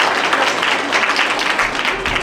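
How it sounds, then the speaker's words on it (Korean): Wedding guests at a convention hall ceremony applauding as the couple's mothers greet them, a steady, fairly loud burst of clapping from a crowd throughout. "큰 박수 부탁드리겠습니다."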